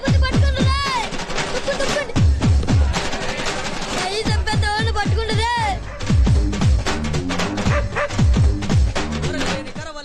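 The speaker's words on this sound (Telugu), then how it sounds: "చెత్త కుక్క ఎవడురా?" A dog barks repeatedly in sharp bursts amid a loud, busy mix of voices and noise, the barks close and frequent throughout.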